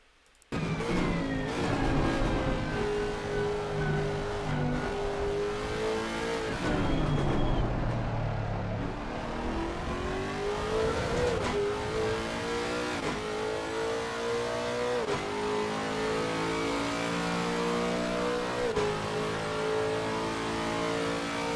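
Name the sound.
Lexus RC F GT3 race car engine in Assetto Corsa Competizione video game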